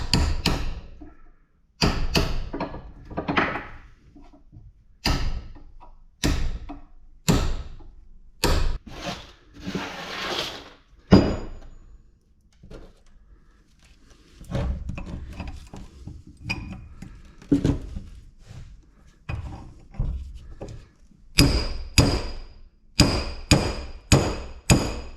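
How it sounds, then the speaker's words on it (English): A hammer strikes scrap steel in irregular bursts of sharp metallic taps and thuds, sometimes single blows, sometimes rapid runs, close and fairly loud with short pauses between, no talking. "So we're gonna do a little more tapping here."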